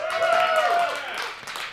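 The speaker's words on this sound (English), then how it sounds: "give us a cheer" A studio audience cheers and claps at an esports pre-match show, a loud burst of mixed voices and whoops that fades toward the end, with scattered clapping.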